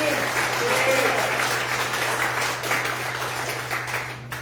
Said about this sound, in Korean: 큰 박수로 맞이하겠습니다